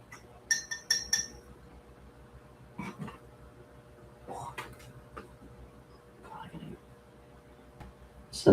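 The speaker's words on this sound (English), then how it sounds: "Stir that up really well." A mixture is stirred in a glass container, with a few bright clinks of the utensil against the glass early on and softer scraping taps later, under quiet talk.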